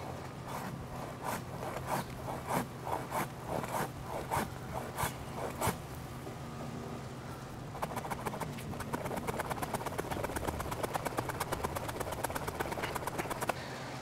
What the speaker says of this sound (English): let's go ahead and cut this little trunk right here